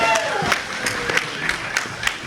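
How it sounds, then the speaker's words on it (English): A theater crowd claps for a high school performance, the applause coming in rhythmic bursts, while a voice speaks over it at the start. "Give them a round of applause."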